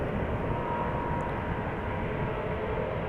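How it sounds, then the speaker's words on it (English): A KLM Boeing 777-200ER at Amsterdam Schiphol spools up its jet engines, a steady, dense, loud roar that holds without a break. "spooling up is a 777-200 going to Quito"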